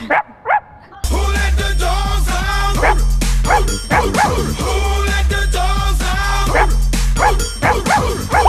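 A dog barks repeatedly, loud and close, in a Vietnamese television dating-show studio, with steady background music running under the barks.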